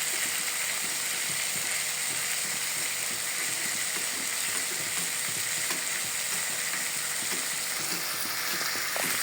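Sambal goreng tahu tempe kecap with sliced leeks sizzles steadily in a pan while it is stirred, a constant close frying hiss with faint scraping underneath.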